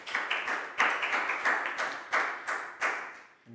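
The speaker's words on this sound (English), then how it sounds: "Big round of applause for Pak Bung" A Year 4 class claps together in a rhythmic round of applause for a classmate, sharp evenly spaced group claps repeating about every third of a second, close and lively in a classroom.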